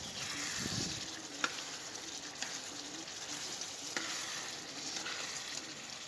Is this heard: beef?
yes